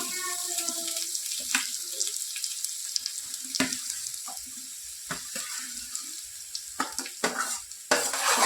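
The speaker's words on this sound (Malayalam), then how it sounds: "ഈ അരിഞ്ഞ് വെച്ചേക്കുന്ന ഏത്തക്കയുടെ തൊലി ഇട്ട് കൊടുക്കാം" Chopped plantain peel goes into a hot pan of oil with curry leaves for a thoran, producing a continuous close sizzle broken by scraping and clattering stirs.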